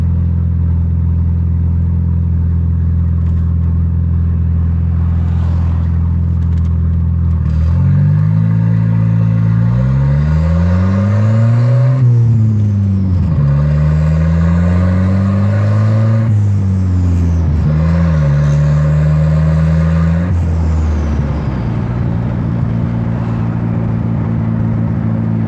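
Turbocharged Volvo engine running a Borg Warner GM3 turbo taken off a Chevy 6.5 Detroit diesel, idling and then revved up and down in several rising and falling sweeps, loud and close, with no voices.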